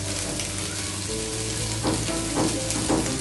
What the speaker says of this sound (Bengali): ঢেঁড়স ভাজিটা হচ্ছে